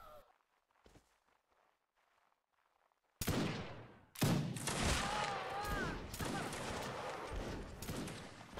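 In a Napoleonic line battle video game, a line of muskets fires a sudden loud volley after a near-silent pause. A second burst follows, then scattered crackling shots continue, with voices talking underneath.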